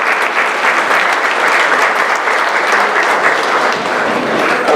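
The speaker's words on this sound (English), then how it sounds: "Let's give another round of applause." Sustained, dense applause from an audience at an awards ceremony honoring recipients, loud and steady throughout with no break.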